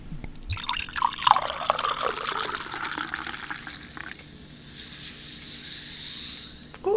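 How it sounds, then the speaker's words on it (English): Moscato sparkling wine fizzes after pouring, a close run of bright crackling bubble pops and drips that gradually settles into a softer steady hiss. "That's the thing about Moscato. It's very bubbly."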